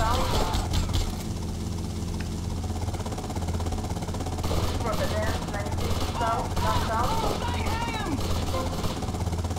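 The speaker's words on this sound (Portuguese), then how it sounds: "Esse helicóptero de bosta aí, enchendo o saco." Helicopter rotor whir in GTA Vice City plays steadily under someone talking throughout, alongside other game engine and traffic noise.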